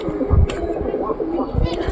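Pigeons coo softly near their nests, low repeated coos over a murmuring background with a person talking.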